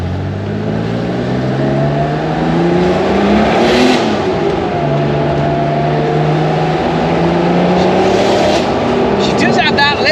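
Porsche Outlaw 930 Turbo on a racetrack on a cold day, a loud, close engine roar rising and falling through the revs as it accelerates, steady and dominant throughout.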